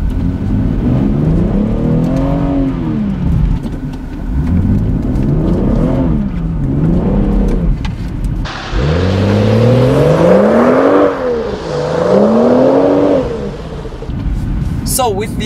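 A 2018 BMW 440i xDrive drives up a snowy road, its engine revving and rising in pitch through repeated acceleration sweeps, loud and close, with talking over much of it.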